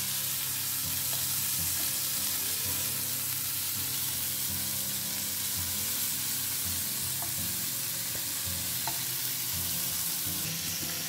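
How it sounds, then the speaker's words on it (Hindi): Goan stuffed prawns fry in a pan, browning on their second side, with a steady, close, continuous sizzle and crackle and no talking. "अब दूसरे साइड को भी ना एक बढ़िया सा ब्राउन कलर आने तक इसे फ्राई करते हैं।"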